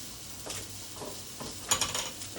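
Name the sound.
celery being sautéed in a pan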